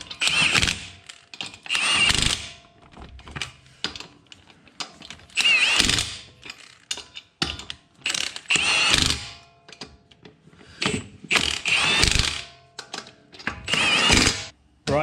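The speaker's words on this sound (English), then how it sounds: "Now I'm just doing this up with the rattle gun just so that the wheel fits up snug." A rattle gun tightens car wheel nuts during a tyre rotation. It fires in short, loud, rattling bursts, about seven or eight of them, separated by brief pauses.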